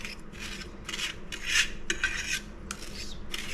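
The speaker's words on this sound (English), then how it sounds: "with a fork, you just want to break up all these ice crystals into the unfrozen Granita mix" A fork scrapes and breaks up ice crystals in a watermelon and mint granita, a series of short gritty rasping strokes at close range, some stronger than others, with no talking.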